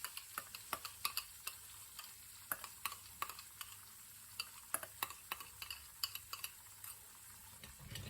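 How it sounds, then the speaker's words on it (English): Greek yogurt is whisked gently into a creamy mac and cheese sauce, producing soft, irregular clicks and taps of the whisk against the pan over a faint low hum, with no talking. "Just gonna gently whisk this in together here."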